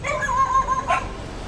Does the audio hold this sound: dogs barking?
yes